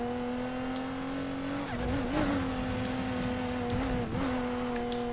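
A tuned Aston Martin with about 1,400 horsepower in the racing game Need for Speed Heat, its engine holding a loud, steady high-speed drone. Brief tire squeals and shifts break in around the middle and again near the end.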